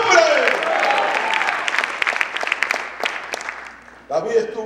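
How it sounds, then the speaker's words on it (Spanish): A church congregation claps during a Spanish-language sermon, producing a dense wash of hands with some cheering voices mixed in. The clapping fades toward the end and a speaker's voice returns. "¿Cuántos le dan un buen aplauso al Señor?"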